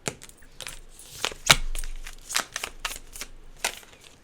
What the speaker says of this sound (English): Oh, I accidentally shuffled that one back in there